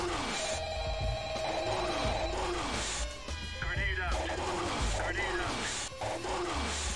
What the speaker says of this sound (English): the phone call is the loudest thing on earth